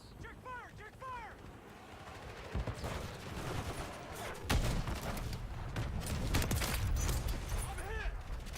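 Gunfire in Call of Duty Modern Warfare 3, scattered shots and heavy rattling bursts building into dense, loud firing with booms, mixed with shouted voices.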